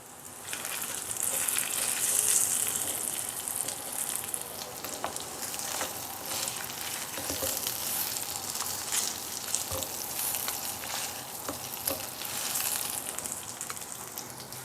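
Persian pan kebab meat browns in oil in an uncovered pan, a loud, continuous frying hiss dotted with sharp crackles and spits throughout, with no voices.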